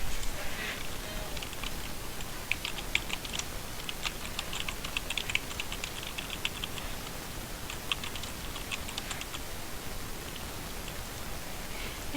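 Soft, quick keystrokes tap on a computer keyboard in uneven bursts, faint and close, with light background hiss and no talking.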